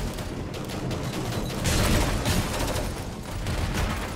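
Gunfire in the video game Angels Fall First sounds as a continuous chaotic barrage of shots and explosions, loud and dense throughout, with no one talking.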